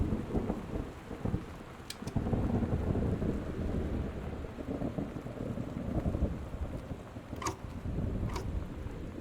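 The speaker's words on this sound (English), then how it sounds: "Oh, that explains the storm." A heavy thunderstorm with rain plays as background in a Sherlock and Cthulhu story game, with a constant dense roar of rain, deep rumbling thunder and a few sharp cracks, and no talk.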